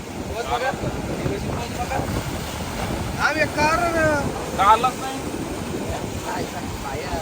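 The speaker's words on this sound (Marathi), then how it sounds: "एवढी डेंजर लाट येतात ना, डायरेक्ट वरती पाणी।" Sea waves crash and wash over the shore at Harihareshwar beach, a loud steady surge with wind noise, while several people talk and exclaim over it.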